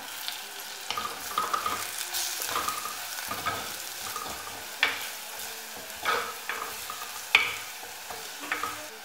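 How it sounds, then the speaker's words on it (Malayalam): Ground pepper and fennel powder sautéing in a pan for a clam-coconut masala, a constant sizzle under repeated scraping stirs and a few sharper clinks of a spatula. "പച്ചമണം മാറുന്നത് വരെ ഒന്ന് വഴറ്റാം."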